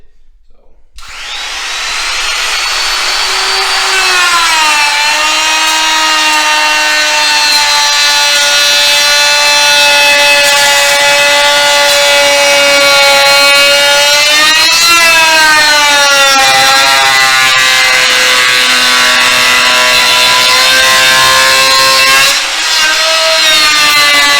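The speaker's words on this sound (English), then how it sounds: "Now you're going to take your router, you're going to route against it." A router cuts into wood for a homemade turkey plaque, a loud, high, sustained whine that starts abruptly, shifts pitch as the bit loads and eases, then cuts off near the end.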